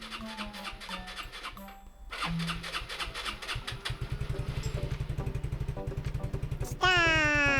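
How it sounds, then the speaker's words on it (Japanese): A Yamaha Majesty 125 scooter engine sputters and cranks, then catches and settles into a steady putt-putting idle, ending with a quick rising rev. "ガソリンを入れてエンジンをかけてみましょ"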